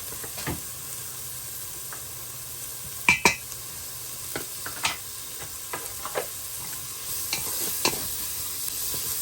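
Swiss chard frying with ginger and flour in a pan gives a steady soft sizzle, broken by scattered sharp clicks and scrapes of a utensil stirring, fairly close.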